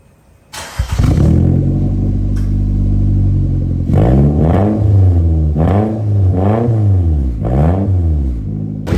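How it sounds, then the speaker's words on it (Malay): A Perodua Myvi's bolt-on turbocharged engine starts with a roar, idles briefly, then revs up and down several times in loud, rising and falling surges, close by. "jom kita dengar bunyi enjin."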